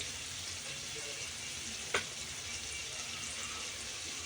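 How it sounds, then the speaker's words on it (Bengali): Chopped onion frying in a pan, a faint steady hiss of sizzling oil with one brief sharp clink partway through, close but quiet. "পেঁয়াজ কুচিটা দেওয়ার পর কিছুক্ষণ বেজে নেব"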